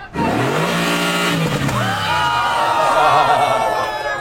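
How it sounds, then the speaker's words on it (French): A car engine revs hard and loud nearby, rising and falling in pitch, then holding a strong roar. "Il découvre le son de sa nouvelle voiture."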